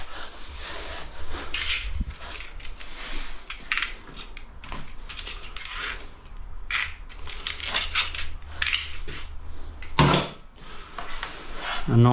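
A knife prying apart ceramic tiles held together with wax, a series of sharp clicks, scrapes and clacks at irregular intervals, close and fairly loud, with one heavier knock near the end.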